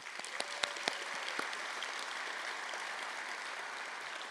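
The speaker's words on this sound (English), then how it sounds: "So big round of applause to you all." A university convocation audience gives applause, a steady, moderately faint wash of clapping with a few sharp nearby claps at the start, then evening out.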